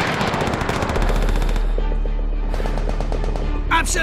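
Rapid machine-gun fire from the Call of Duty: World at War game rattles in close, loud bursts at the start. Sharper single shots and in-game effects follow, with no speech.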